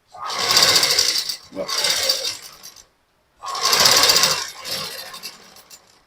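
A sewing machine stitches the lining of a blouse in two loud, close bursts, with a short pause between them and a longer silence before the second pair, with no talking.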